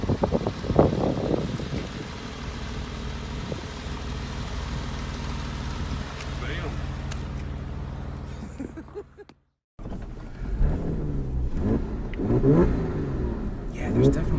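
A 2006 Porsche 911 Carrera S engine rumbles and revs with a throaty exhaust note, cuts out briefly, then returns with rising and falling revs while people talk.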